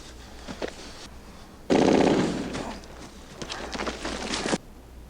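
Rapid bursts of MG-42 machine gun fire in a Band of Brothers war scene, a sudden loud rattling stream lasting a few seconds followed by scattered distant shots, with no talking over it.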